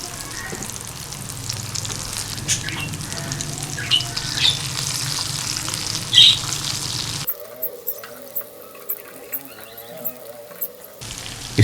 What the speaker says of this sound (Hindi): ये नाज़रीन कटलेट्स हमारे तैयार हैं, बिल्कुल फ्राई हो गए हैं।